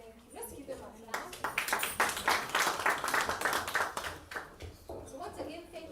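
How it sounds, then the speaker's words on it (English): Audience clapping at a child-protection launch event, a burst of hand claps that swells then eases over about four seconds, heard together with ongoing talk from the room. "Let's give them a clap."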